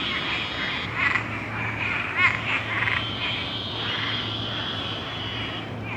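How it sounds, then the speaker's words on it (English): A chorus of frogs croaks steadily from nearby at Disney World, with a few louder bursts of calls rising above the continuous background drone. "There's hundreds of frogs in there."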